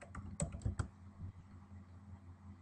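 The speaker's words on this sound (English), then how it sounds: "we're going to type in the word furnace" Quiet typing on a computer keyboard, a short run of light, quick key clicks clustered near the start, then fading to a few soft taps against low background hum.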